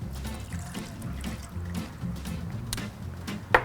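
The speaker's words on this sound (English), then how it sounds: "We're also adding a 1/2 cup of water" Half a cup of water pours into a pot during a drink recipe, a steady faint running trickle that stays low and continuous with a brief splash near the end.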